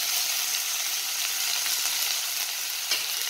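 Chunky-cut capsicum and carrot fry in a pan with a steady, bright sizzle that hisses evenly throughout, with a faint stirring scrape near the end.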